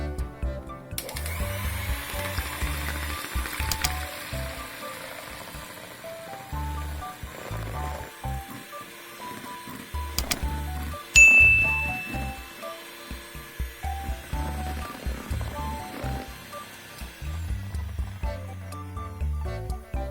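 An electric mixer whirs steadily as it whips egg whites in a bowl, a continuous motor drone with slight changes in pitch and some clatter against the bowl.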